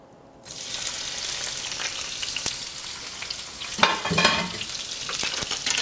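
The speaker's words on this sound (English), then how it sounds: "I'm gonna pour some olive oil into our pan. I've had it heating up." Shrimp hit hot olive oil in a pan and start a loud, steady sizzle that holds at close range, with occasional scraping as they are stirred.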